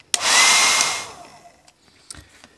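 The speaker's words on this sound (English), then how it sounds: "you'll just need a hairdryer" A hair dryer switches on with a sudden blast of broadband airflow to heat the hand joint of a Gremlin toy figure, roaring steadily for about a second before tapering off, followed by a few faint handling clicks.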